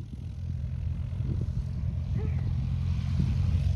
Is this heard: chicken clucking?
no